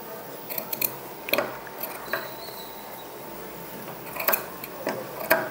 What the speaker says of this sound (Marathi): आतला जो हा थोडासा आता कपडा राहिलेला आहे पोटली बटनाचा तो आपल्याला कापून घ्यायचा आहे